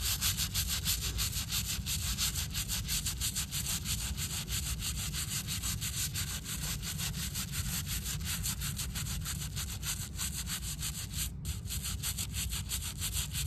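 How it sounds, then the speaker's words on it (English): Brushes scrub steadily against a stone headstone in quick back-and-forth strokes, a close, continuous rasping with no voices. "the sound of the brushes cleaning the headstones"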